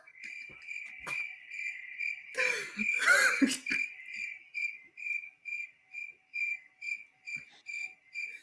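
Crickets chirp in steady, evenly spaced pulses, clear and fairly close, briefly interrupted midway by a short burst of other noise before the chirping resumes.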